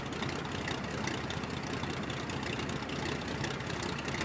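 Single piston engine of a Junkers F13 plane in a flight simulator game, a steady, dense droning roar that holds even and continuous throughout.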